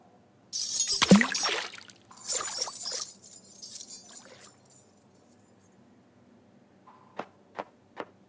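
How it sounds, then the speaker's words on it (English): A toilet flushing in the video game Loco Motive: a loud rushing gush of water that fades into gurgling swirls, followed by a few faint, sparse drips or clicks. "What's that noise? Is somebody flushing contraband?"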